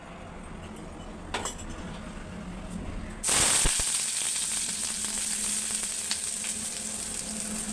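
Onions and tomato drop into hot oil and burst into a loud hiss, preceded by a couple of utensil clinks, then settle into a steady close sizzle.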